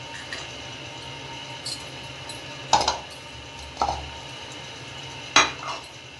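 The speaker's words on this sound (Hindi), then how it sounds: "ये मैं तमाम चीज़ें जो हैं एक बाउल में डाल के मिक्स करूँगी" Potato kebab ingredients are mixed in a bowl, with three sharp clinks of a spoon against the bowl over a quiet background and no speech.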